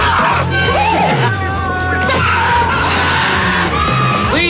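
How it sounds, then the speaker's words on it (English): Screaming and yelling in a comedy film advert, shrill cries and whoops rising over a busy music and effects bed, with voices talking between the outbursts. "Please, will you stop screaming?"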